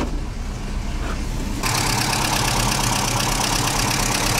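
A 1963 Moskvich 407 engine idles as it warms up after a wash. Its loud, steady mechanical rumble grows fuller partway through and then holds constant at close range, with no voices.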